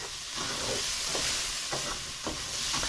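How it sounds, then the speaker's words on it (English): Bacon sizzles in a non-stick pan while being stirred, a close, loud, continuous fry hiss broken by soft scraping strokes every half second or so. "just keep giving that a stir. You got the bacon in there"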